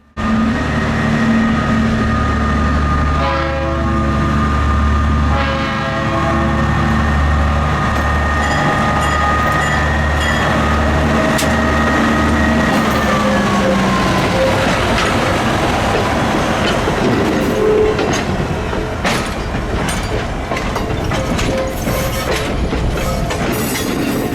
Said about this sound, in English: I heard the 80-tonner departing with another passenger train